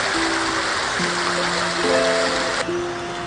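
A river rushes in a steady, broadband wash, heard close and fairly loud throughout. Sustained musical tones sit over the flowing water.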